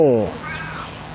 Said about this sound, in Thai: ขณะรีวิวตอนนี้มีแมวมากวนใจ